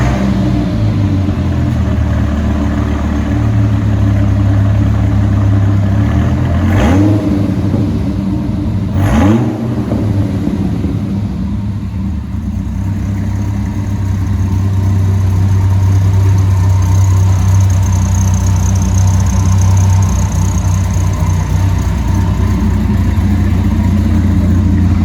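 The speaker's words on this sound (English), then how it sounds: "it's had a baller exhaust system fitted to it, and this thing sounds absolutely amazing now" A 1965 Ford Mustang with a newly fitted aftermarket exhaust, its engine rumbling loudly and steadily, with two sharp revs early on before it settles back into a deep, continuous burble.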